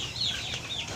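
High, thin peeping of many young chicks, around 100, chirping together in a continuous chorus, close by.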